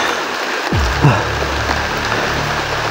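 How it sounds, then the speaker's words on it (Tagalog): Rain falling outdoors makes a constant hiss and patter, with some low rumbling handling noise and brief knocks near the mic partway through. "Bro, medyo umuulan talaga guys."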